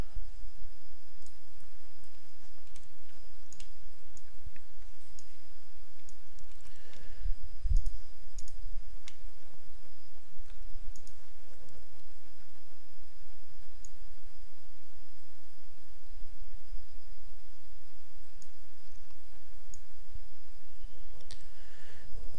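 A computer mouse clicks sparsely and sharply while drawing with a pencil tool in digital art software, isolated close taps spread over a quiet background with no talk.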